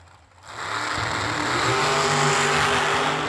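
Dial-in dragsters launching side by side at a drag strip during a New Year Nationals race: after a brief quiet moment, the engines burst into a loud, sustained roar that holds steady and close to the end.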